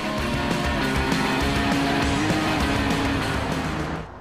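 An Audi TTS Roadster with a 2-liter TFSI engine at 272 horsepower drives hard, its engine droning loud and steady with rising tones, before fading at the end.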